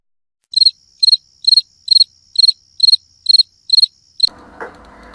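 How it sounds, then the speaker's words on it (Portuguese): Cricket chirping sound effect: about nine crisp, evenly spaced high chirps in a quiet background, ending abruptly as a brief clatter cuts in. "Bota o grilo aí, produção."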